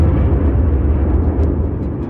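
Huge explosion sound effect standing for the birth of the Sun, a loud deep rumbling roar that sustains heavily throughout with a few faint crackling bursts, alone with no voices.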